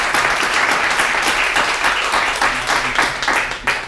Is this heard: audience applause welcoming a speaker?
yes